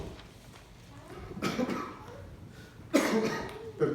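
A man giving a Spanish-language sermon coughs twice at close range, two short rough bursts about a second and a half apart with a quiet gap between.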